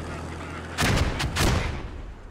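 Grenade blasts in a tactical shooter: a sudden heavy explosion followed by a second boom and rumbling tail, loud and near, with a faint voice under the din.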